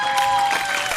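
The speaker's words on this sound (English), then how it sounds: "Round of applause for Worcester Got Talent" A crowd claps at the close of a local talent show; a brief, moderately loud wash of clapping with a high tone ringing through it.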